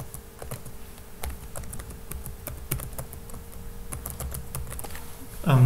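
Rapid keystrokes on a computer keyboard enter an email address, a steady run of light clicks and taps against a low hum and faint background noise, fairly close.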